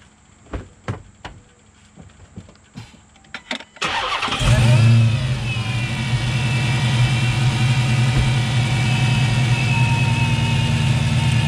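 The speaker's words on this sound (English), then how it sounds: "All right, let me start it up now." A Chrysler 300 converted with a Hellcat engine is started after a series of sharp clicks and taps, firing up with a loud burst and settling into a deep, steady, rumbling idle close by.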